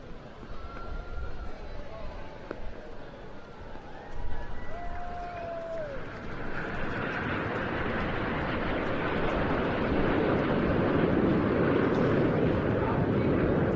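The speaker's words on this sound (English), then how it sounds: "out behind us during that break, you might have heard a little rumble of jet noise" Red Arrows jet aircraft at the Bournemouth Air Festival 2023 rumble in the distance, a deep roar that builds and swells into a loud, sustained rushing noise after a quieter stretch with a voice talking.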